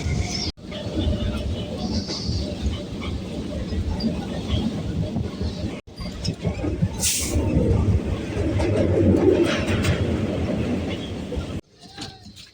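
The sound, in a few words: train running on tracks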